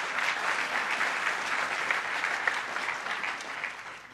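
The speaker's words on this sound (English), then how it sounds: "that deserves a round of applause" A crowd applauds during a governor's remarks on New York–Netherlands semiconductor ties, producing a thick, even roar of clapping that stays strong for about four seconds before easing slightly at the end.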